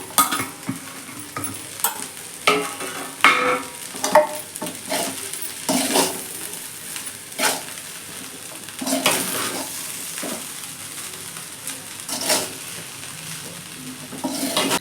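Paneer fried rice with spring onion being tossed in a pan, a steady sizzle punctuated by repeated sharp spatula scrapes and clinks against metal, near and fairly loud, no voices.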